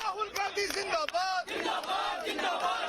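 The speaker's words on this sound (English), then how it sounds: "Outside the AICC headquarters, the crowds kept swelling as more and more protesters gathered" A crowd of protesters outside the AICC headquarters shouting and chanting together, loud and close with overlapping raised voices throughout.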